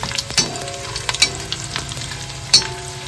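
Dried fish (chevna) fry in hot oil in a pan, a steady close sizzle punctuated by several sharp scrapes and knocks of stirring, fairly loud with no voices.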